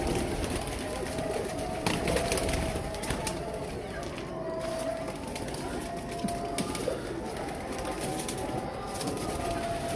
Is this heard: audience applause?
no